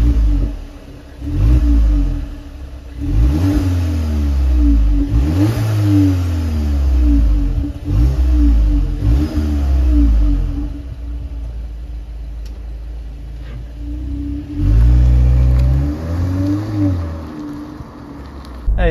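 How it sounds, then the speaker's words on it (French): A 2023 Volkswagen Polo GTI engine revving repeatedly from idle, each blip rising sharply then falling back, about seven close, loud pulls with a steady idle hum between, and a final longer rev near the end. "je vous fais écouter le petit bruit du moteur"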